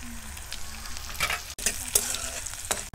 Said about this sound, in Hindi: तेल में हम लहसुन डालेंगे और हल्का फ्राई कर लेंगे। अब इनमें हरी मिर्च डालेंगे।